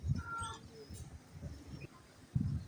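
Pigeons, including khaki and other fancy breeds kept for sale, give low cooing calls close by, alongside a few brighter chirps and some faint background noise.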